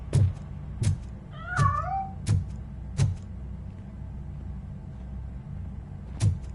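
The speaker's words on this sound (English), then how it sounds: "That cat must be hiding inside." In the video game RoboCop: Rogue City, a cat lets out a single wavering meow among a string of sharp thuds and taps, fairly close and quiet, with no talking.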